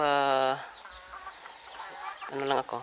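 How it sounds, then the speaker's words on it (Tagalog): Pet chickens walking around a rural Philippine yard give soft, scattered clucks under a constant high insect-like hiss, with a voice speaking at the start and again near the end. "dito sa mga alaga kong mga manok"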